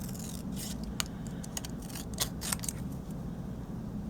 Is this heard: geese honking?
no